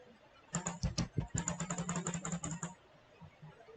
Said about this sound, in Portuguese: eu vou dar vários cliques aqui